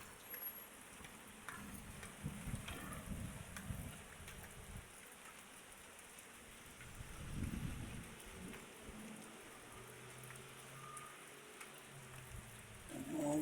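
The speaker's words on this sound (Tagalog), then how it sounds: "oh guys, umulan po. Sumaglit po ang ulan." Steady rain falling, a continuous hiss with occasional heavier low rumbles, no voices.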